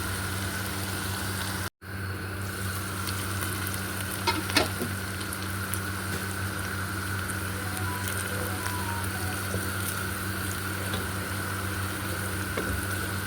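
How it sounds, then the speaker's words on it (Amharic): Garlic fries in a pan for an Indian-style chicken stew, giving a long, even sizzle with faint scrapes and small pops. One brief dropout breaks it near the start, and no one speaks. "በትንሽ ደቂቃ ነጭ ሽንኩርቱን አብሬ አበስላቸውና"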